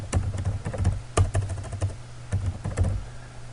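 Rapid typing on a computer keyboard while writing a web address into a notepad file, crisp close keystrokes in uneven bursts with short pauses, over a steady low hum, no talking.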